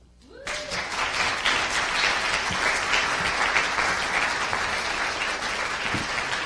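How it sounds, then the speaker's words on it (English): A crowd at a Des Moines community event applauds a performer: many hands break into steady, full clapping within half a second and keep going loudly and evenly to the end, with no voices over it. "Let's give him another round of applause"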